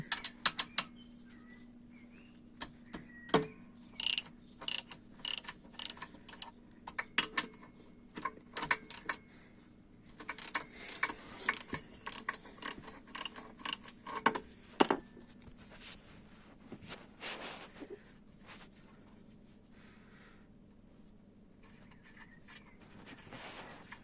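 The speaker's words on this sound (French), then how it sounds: "Donc le cliquet, on met la douille et on est parti." A ratchet with a socket loosens a bolt on the brake of a SYM Lander 250 cc quad, giving quiet, rapid runs of metallic clicks in several bursts, close to the mic, with no talk.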